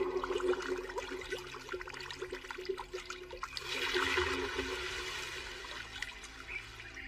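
Rushing water summoned by a magic spell in an anime fantasy: a continuous gushing, splashing flow like a heavy pour, swelling louder midway and then settling into a steady stream, with no voices.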